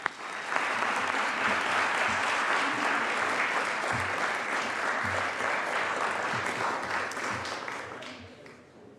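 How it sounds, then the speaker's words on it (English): A legislative floor session erupts in steady applause, full and even for most of the stretch before tapering off near the end, with a faint voice at the very start. "let's give them another round of applause"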